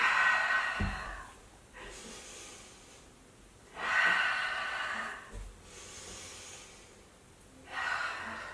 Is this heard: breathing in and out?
yes